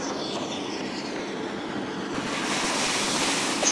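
A steam locomotive, the Coronation class Duchess of Hamilton in the video game Train Simulator 2020, takes on water at speed: a steady, loud rushing wash of water and wind that swells slightly midway, with no talk.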